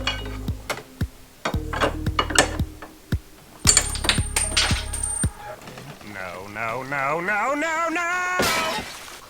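A loose bolt from a high-mileage Honda drops through and clatters, a run of sharp metallic clinks and bounces close by, followed by a voice talking.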